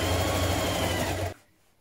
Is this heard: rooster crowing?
no